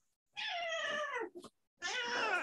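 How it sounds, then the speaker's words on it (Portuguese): A cat on a table meows twice at close range: a long, drawn-out call followed by a shorter one after a brief pause, both fairly quiet. "O gato que sai aqui em cima da mesa."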